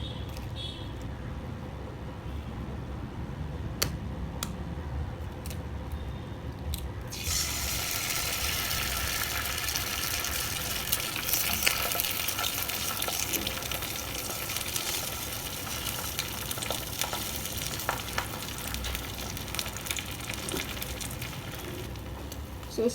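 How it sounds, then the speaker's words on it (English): An egg frying in a little oil on a hot skillet: a few taps and clicks at first, then a steady, loud sizzle that carries on without a break to the end. "So I want to fry my egg too."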